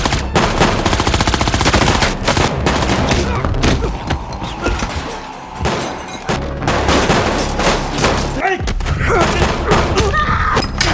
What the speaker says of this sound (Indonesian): kemudian mengambil senapan dari tasnya dan baku tembak brutal pun terjadi